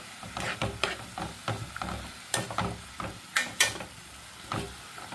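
A spoon scrapes and stirs bottle gourd halwa with milk in a pan, making a loose, uneven rhythm of about a dozen scraping strokes over a soft sizzle. The stirring is close and clear, with no talking.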